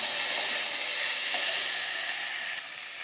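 Bitter gourd and potatoes hiss and sizzle steadily in a hot pan, a close, even frying noise that drops slightly in level near the end, with no talking.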